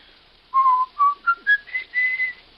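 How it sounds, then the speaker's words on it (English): Someone whistles a tune alone in a radio mystery drama: a clear, close melody of several distinct notes stepping upward, with short pauses between phrases. "Why'd you whistle that song so much?"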